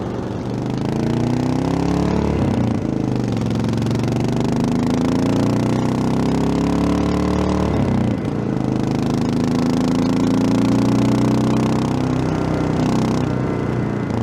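A 1984 Yamaha XT600Z Ténéré motorcycle engine runs loud and close, a continuous single-cylinder drone that rises and falls in pitch as revs change, with no voices.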